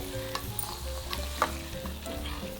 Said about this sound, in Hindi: ये बहुत अच्छे से मैं इसको फ्राई करूंगी।